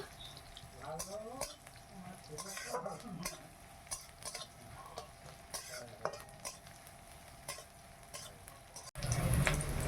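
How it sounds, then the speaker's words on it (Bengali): Onions fry in hot oil on a gas stove, giving a steady close sizzle with repeated stirring scrapes and utensil clinks, then a sudden louder hiss near the end. "তেলটা গরম হয়ে গেছে, এবারে তেলে পেঁয়াজটা দিয়ে দিলাম। পেঁয়াজটা একটু ভালো করে ভেজে নিই।"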